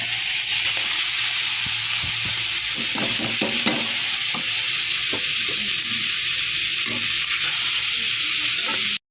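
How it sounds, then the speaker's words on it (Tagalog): Onion, garlic and bamboo shoots sizzle steadily in a hot pan for an Ilocano dinengdeng, with close, continuous frying hiss and occasional stirring scrapes and clicks, no talking. "lagay natin itong sibuyas sa bawang. Tapos, ilagay natin itong labong."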